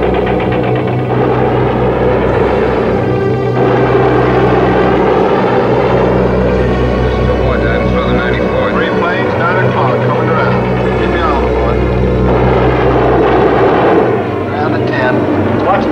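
Loud, continuous droning roar of B-17 bomber engines in flight, steady throughout with dense low rumble, under urgent overlapping radio-style voices calling out positions.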